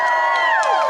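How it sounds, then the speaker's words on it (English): A rally crowd in Rock Hill, South Carolina, cheers and whoops loudly in a dense, continuous roar of shouting voices, filling the short moment with no pause. "Let's give him a round of applause."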